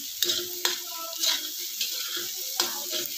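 Village egg bhurji frying in a pan while being stirred, a continuous close sizzle broken by several sharp spatula scrapes and taps at irregular intervals.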